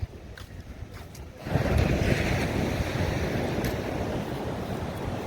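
Sea waves on Old Digha beach: after a quieter opening, surf rises into a loud, broad, continuous wash mixed with wind buffeting the microphone, holding steady to the end with no voices.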